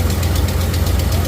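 A 5.7 or 6.4 litre Hemi V8 in a RAM truck idles loudly and close at startup, with a steady, rapid light ticking from the lifters riding over the deep engine rumble.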